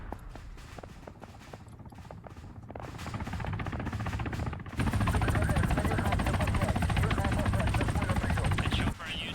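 A Mi-28 attack helicopter in the military shooter Arma 3 roars close and loud, its rotor and engine swelling into a steady dense drone mixed with bursts of distant gunfire.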